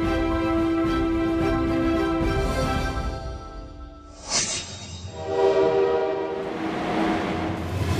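A Beijing–Zhangjiakou high-speed train rushes past with a loud sustained horn blast, then the horn cuts off and the roar of the passing carriages swells and fades, with no talking.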